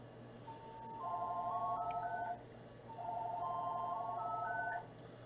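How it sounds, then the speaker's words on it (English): A telephone rings with an electronic warbling tone in two bursts, each about one and a half seconds long, over a steady low hum. "Phone's ringing."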